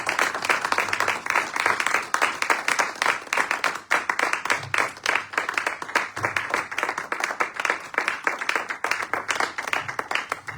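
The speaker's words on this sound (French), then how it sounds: "Vraiment, sous vos acclamations, nous allons accueillir l'apôtre Nestor." A church congregation claps steadily and densely for the full stretch, a continuous wash of many hands with faint voices acclaiming underneath.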